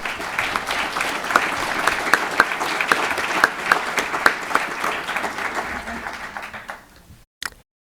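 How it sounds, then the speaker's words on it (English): An audience at a school board meeting gives the board a round of applause, dense sustained clapping that carries on for several seconds before tapering off and stopping, followed by a brief clunk. "I would ask the audience here to honor our board here with a round of applause."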